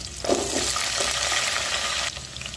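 Thinly sliced ginger, green chillies and potatoes fry in hot oil in a pan, the start of a masoor pulao. A steady, loud sizzle runs throughout, with a brief stirring rustle near the beginning before the crackle dies down at the end.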